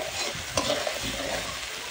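Spice masala with dry chili fries and is stirred for a fish curry, giving a close, continuous sizzle with a brief scrape of the spoon partway through. Short and steady, with no talking.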